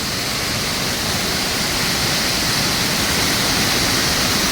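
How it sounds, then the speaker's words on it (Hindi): A powerful mountain waterfall roars as a dense, steady rush of falling water, loud and close, with no voices or other sounds. "कड़ा झरना।"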